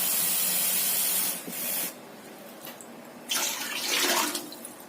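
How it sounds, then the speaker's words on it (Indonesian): Water runs and splashes steadily from a tap into a cooking pot, briefly easing off mid-way, then surging again into a louder hissing pour. "Kita rebus 1 liter air."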